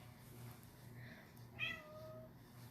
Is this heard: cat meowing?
yes